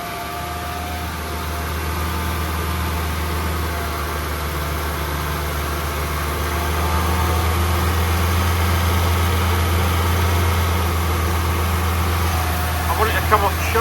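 A 1978 BMW E21 316 barn-find engine runs for the first time in 32 years, a steady low idle on choke that rises slightly partway through, with faint voices in the background.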